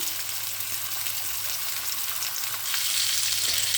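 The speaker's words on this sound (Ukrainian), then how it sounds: "Смажу ковбаску варену." Steady, loud crackling sizzle of boiled sausage frying in a hot pan, continuous throughout and growing slightly louder toward the end.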